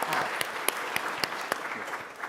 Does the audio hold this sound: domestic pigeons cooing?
no